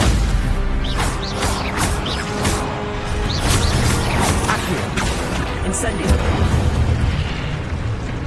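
In Hogwarts Legacy, the Incendio fire spell is cast amid dense, loud game combat, with repeated bursting booms and crackling blasts that fill the scene continuously.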